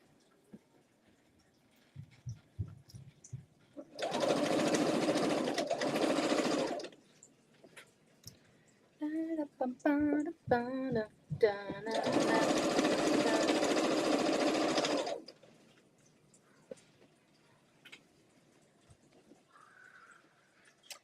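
A sewing machine stitches a seam in two sustained bursts of steady running, separated by a brief pause with short stop-start clicks, fairly close and alone without talk.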